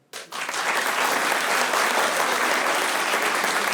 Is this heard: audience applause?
yes